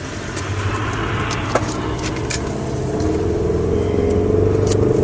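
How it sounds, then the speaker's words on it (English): Continuous rumble of passing car traffic heard through an open car window while driving, with a steady engine drone from close by. "my window's down, so you probably hear a lot of car noises"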